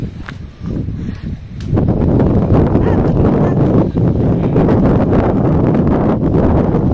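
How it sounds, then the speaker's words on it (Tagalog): Heavy rain roars steadily with strong gusts buffeting the microphone, loud and continuous, the downpour swelling after a brief quieter start. "Sobrang ulan po."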